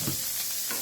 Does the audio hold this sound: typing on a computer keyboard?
no